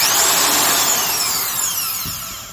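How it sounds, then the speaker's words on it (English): A Milwaukee 1675 Hole Hawg drill runs loudly and close, a continuous bright whirring motor whine with shifting overtones that holds steady, then tapers slightly as it starts to wind down. "this very drill"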